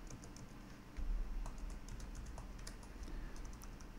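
Close keystrokes on a computer keyboard, a quick irregular patter of clicks with a few heavier taps, heard alone for about four seconds.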